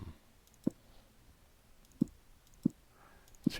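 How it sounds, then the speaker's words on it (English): Sharp computer mouse clicks at irregular intervals while building blocks in the game Minetest, four distinct close clicks standing out over a quiet background. "since I'm doing a lot of right clicking"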